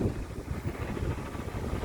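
Strong wind buffets the microphone in a continuous low rumbling roar, steady and loud for the whole stretch, at the waterside where an elderly woman ferries passengers by boat.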